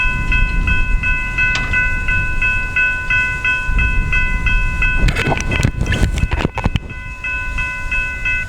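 A northbound Brightline train on the FEC railway in South Florida, its horn sounding in repeated pulses as it nears, then a loud burst of rushing, clattering wheels and wind as it passes close by.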